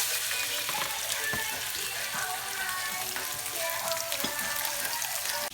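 Salmon fillets sit skin side down in hot olive oil in a pan, giving a dense, even sizzle that holds steady and close with scattered small pops throughout.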